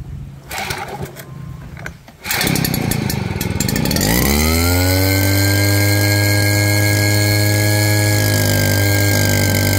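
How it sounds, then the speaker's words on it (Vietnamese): The small engine of a Japanese fertilizer and lime sprayer is pull-started: a few rattling pulls, then it catches and revs up into a loud, steady buzzing idle close by. "giật máy nổ cho bà con xem đi."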